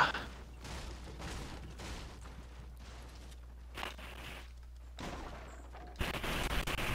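Shotgun gunfire during a Fortnite fight: a few dull, muffled blasts spaced irregularly over a constant low background hum, mid-distance and not very loud, growing noisier toward the end.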